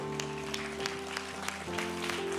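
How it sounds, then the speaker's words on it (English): Church congregation clapping during a revival gathering, scattered hand claps over sustained organ-like musical tones, moderately quiet and steady. "Give these dear hearts a hand clap of love."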